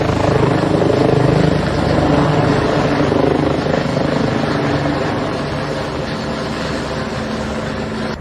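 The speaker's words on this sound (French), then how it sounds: "Voici les images impressionnantes de cette évacuation par hélicoptère par les sapeurs-pompiers d'un blessé au-dessus de l'Arc de Triomphe" Firefighters' rescue helicopter hovering over the Arc de Triomphe during a casualty evacuation: a loud, steady rotor thrum and engine whine fill the whole stretch, easing slightly toward the end, with no talk.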